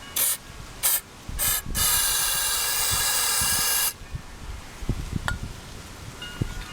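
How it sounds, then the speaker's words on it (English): Three short hissing bursts of carburetor cleaner aerosol into a Briggs & Stratton lawn mower engine, then one long steady spray lasting about two seconds, followed by quiet clinks and shuffling. "let's put some carburetor cleaner in here"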